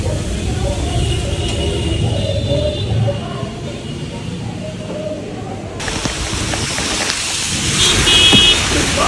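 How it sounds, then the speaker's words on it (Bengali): Monsoon rain falls in Kolkata, a steady, broad wash of hiss with a faint low rumble beneath, growing somewhat louder and brighter toward the end. "বৃষ্টি"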